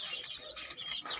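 Chickens eating their morning feed at a poultry farm cluck and chirp in quick, overlapping calls, fairly close and moderately loud, with no talking.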